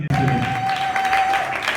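Short burst of audience applause at a Union Congolaise UCO political rally in Matadi, a dense wash of clapping with a voice briefly over it.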